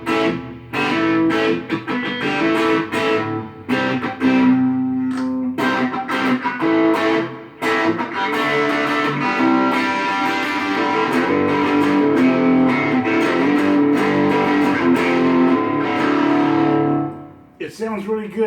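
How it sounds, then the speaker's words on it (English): An electric guitar plays through an MXR distortion pedal into a Marshall MG10CD micro stack, giving loud, continuous, gritty chords and riffs that ring with brief pauses before fading out near the end. "I'm just going to run a classic MXR distortion pedal on"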